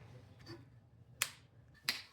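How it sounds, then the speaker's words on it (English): Two sharp finger snaps, about two-thirds of a second apart, crisp and close in an otherwise quiet room, preceded by faint soft sounds. "let me snap my fingers and we'll be back soon"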